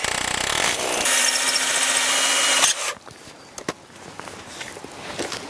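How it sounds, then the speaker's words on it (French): An electric drill with an 8 mm masonry bit bores into concrete through pre-marked holes while fixing a floor rail for an insulated garden shed. It whines loudly and steadily for under three seconds, then stops, leaving scattered taps and handling noises. "Je perce donc dans les trous qui ont été préparés avec un foret de 8, foret à béton bien évidemment."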